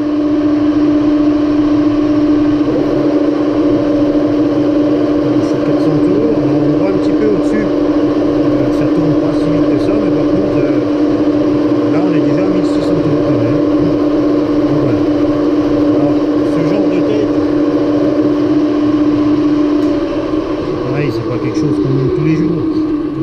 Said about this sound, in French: je suis à 400 tours sur la machine, donc je vais être à 1600. Ici au mandrin, on peut faire un petit essai.